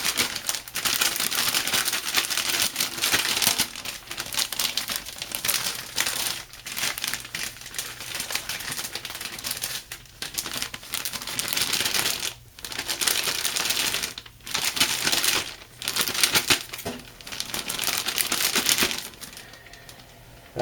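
A sealed container of paper towels for homemade hand wipes is shaken hard, giving a long run of dense crinkling, rattling and sloshing in uneven bursts with brief pauses.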